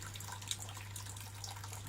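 Second runnings of wort drain steadily during a home beer brewday with a new electric boil pot for a chilli porter, a continuous trickling pour with an underlying hum.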